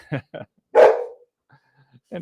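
Friendly dog barking indoors: a few short close barks followed by a louder, longer bark, then brief quieter yips, with people talking around it.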